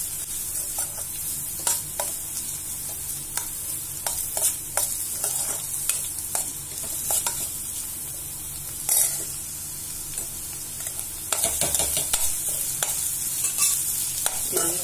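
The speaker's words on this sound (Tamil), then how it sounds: "போட்டு வெங்காயத்தை நல்லா வதங்க சொல்லுவோம்." Onions sautéing and being stirred in a pan for chilli sticks, a steady close sizzle broken by repeated scraping strokes of a spoon, with no voices.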